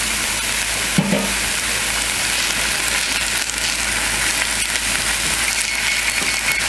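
Garlic sizzles in a pan for a spaghetti bake, a steady broadband frying hiss that holds throughout with a brief clatter near the start.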